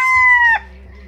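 A fighting rooster crows once, loud and close, a sustained harmonic call that cuts off sharply after about half a second, leaving a low background hum.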